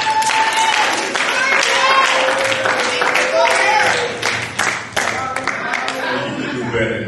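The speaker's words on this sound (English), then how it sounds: "Let's give the Lord a hand clap of praise." A church congregation claps in praise, a sustained stretch of dense hand clapping with voices calling out over it, filling the room before thinning slightly near the end.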